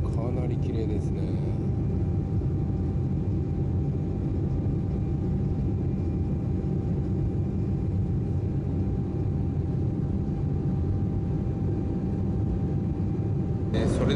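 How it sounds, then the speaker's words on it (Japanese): Steady, loud cabin roar inside a jetBlue airliner just after takeoff from JFK bound for Buffalo, a constant low engine and airflow rumble that holds unchanged throughout. "無事離陸することができました"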